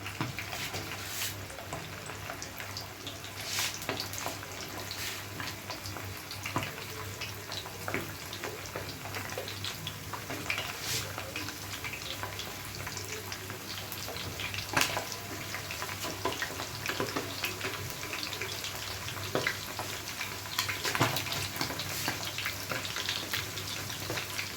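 Chicken wings fry in hot oil with a steady, moderate bubbling sizzle and scattered pops and crackles throughout.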